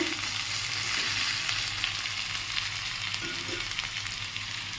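Potatoes for aloo posto fry in a pan with a steady, dense sizzle, stirred now and then with soft scraping, close and continuous throughout.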